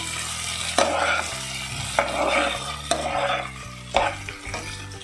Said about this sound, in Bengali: ভালো করে মিক্স করে নিই।